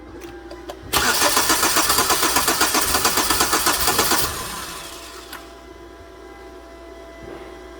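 A 2009 Hyundai Sonata with a no-start fault cranks loudly in a steady rapid rhythm for about three seconds, then drops to a quieter running murmur as the engine tries to catch.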